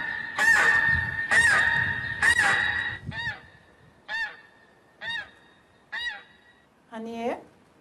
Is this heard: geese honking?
yes